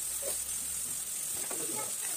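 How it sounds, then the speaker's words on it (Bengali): Long beans just added to a pan with cooked-down tomatoes sizzle with a steady hiss while being stirred, with soft scraping in the second half. "এখানে সবগুলো বরবটি আমি একসাথে দিয়ে দিয়েছি, দিয়ে নেড়ে চেড়ে মিশিয়ে নিচ্ছি"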